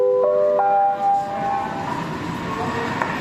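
Jayabaya train standing at a station platform in Indonesia. Sustained tonal horn-like notes sound at the start, then a steady mechanical rumble and station murmur continue, fairly close.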